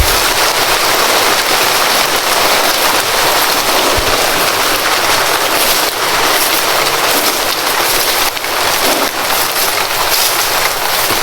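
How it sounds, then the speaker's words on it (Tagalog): Steady rain hisses outdoors without a break, a dense, loud wash with occasional faint clicks and knocks mixed in. "pag lumakas ng ulan"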